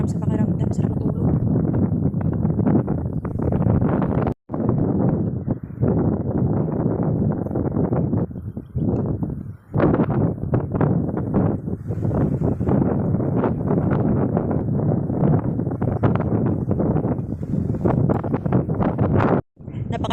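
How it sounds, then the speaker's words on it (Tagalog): Strong wind buffets an open cornfield during planting, a loud, continuous roaring rumble with gusty fluctuations and rustling, nearly unbroken for the full stretch, dominating everything else. "Grabe yung lakas ng hangin."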